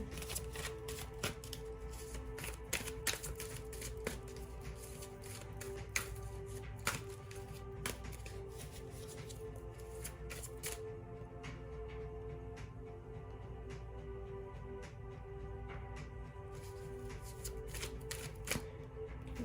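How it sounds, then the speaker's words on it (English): Tarot cards are shuffled close by in a quiet room, a steady run of soft riffling and quick papery flicks lasting throughout, with a faint hum underneath. "Let's pull some tarot and then we'll be done."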